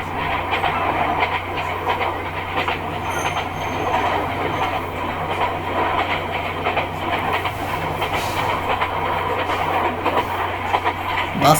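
Passenger train on the Dhaka to Cox's Bazar line heard from inside a carriage, a loud steady rumble with rhythmic wheel clatter and faint squeals, continuous throughout.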